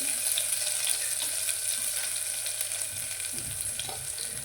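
Garlic and coriander sizzle steadily as they hit hot oil in a home kitchen pan, a continuous bright crackle with light stirring and no talking.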